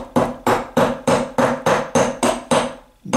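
Ball peen hammer striking while a gasket is being made, about eight loud, evenly spaced metallic blows in steady rhythm, close and alone with short ringing decay after each hit.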